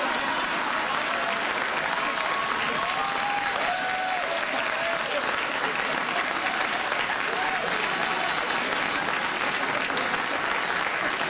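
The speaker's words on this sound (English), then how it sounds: "Let's have a round of applause for the interns." A late-night talk show studio audience gives the interns sustained, even applause for the full stretch, with faint voices and cheering mixed underneath.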